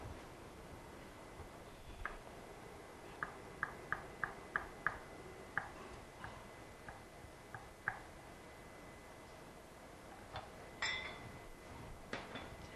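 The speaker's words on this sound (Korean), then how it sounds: "여기서 깨끗이 손질해 놓은 석이버섯을 여러분들이 채 썰어 주시면 되겠습니다" A knife julienning cleaned rock tripe (stone-ear) mushrooms makes faint, crisp taps on a cutting board. A quick irregular run of clicks is followed by sparser taps, set against a quiet, hissy room.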